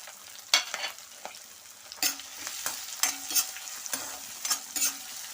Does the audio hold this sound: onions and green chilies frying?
yes